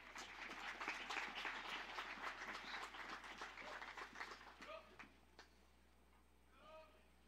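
An audience at a spring college commencement ceremony applauds in a dense, steady round that fades out after a few seconds, followed by a few scattered claps and faint voices.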